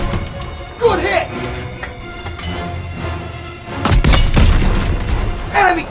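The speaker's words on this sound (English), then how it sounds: "Enemy tank destroyed!" A heavy boom as an enemy tank is destroyed in Call of Duty WWII, mixed with battlefield thuds and rumble, while voices speak loudly over the action.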